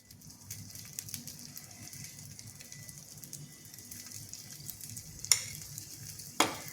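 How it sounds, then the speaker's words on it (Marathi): Puranache dind, sweet stuffed dough parcels, frying in a pan until crisp: a quiet, steady sizzle with soft stirring, broken by two sharp clicks near the end, no voices. "मस्त छान खरपूस भाजून घेऊ"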